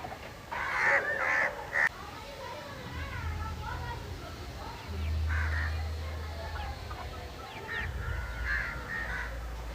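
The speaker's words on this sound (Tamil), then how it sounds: "எவ்வளோ இனிமையாக இருக்குது பாரு குயில் சத்தம்." An Asian koel's repeated calls ring out in short bursts in a rooftop garden, fairly near, with people talking softly in the background between calls.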